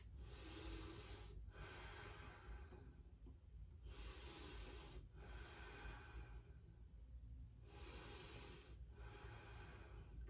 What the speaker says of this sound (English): Slow deep breath in, strong deep breath out.